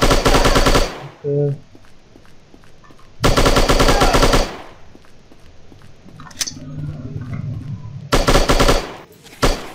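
Machine gun fire in the shooting video game Striker chapter 2 rips out in three loud rapid bursts separated by quieter game sounds, with a brief spoken word in between.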